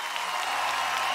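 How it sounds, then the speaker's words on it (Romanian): Studio audience at a comedy show applauding as a female comedian comes on stage, a dense, steady burst of clapping that fills the whole moment. "haideți să o primim cu aplauze puternice pe"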